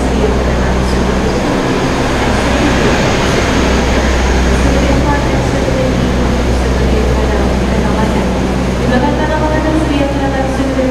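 Inside a train at Gambir railway station, a loud, constant low rumble and hum fill the space while a station or onboard announcement plays over it.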